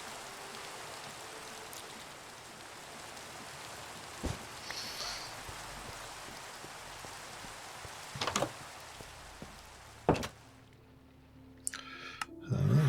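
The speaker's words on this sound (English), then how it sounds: "just to get rid of this rain" Rain falls steadily in a modded Minecraft video game, a continuous soft hiss through the whole stretch, broken by occasional sharp clicks and thumps, with brief voice-like sounds near the end.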